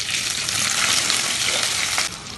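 Curry leaves, green chillies and small shallots fry in hot coconut oil for a Kerala mackerel curry, giving a steady, close, loud sizzle that drops off slightly near the end, with no voices.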